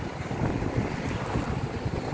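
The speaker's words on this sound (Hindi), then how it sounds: "बहुत तगड़ा पानी" Heavy water rushes through Maithon Dam during a cyclone, a dense, steady roar with wind buffeting the microphone, loud and continuous with no speech.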